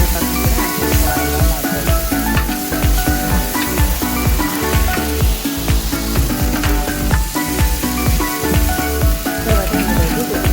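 Mint and curry leaves fry with ginger garlic paste in a big pot of jeera rice for a hundred people, a continuous close sizzle with rhythmic tonal sound running alongside.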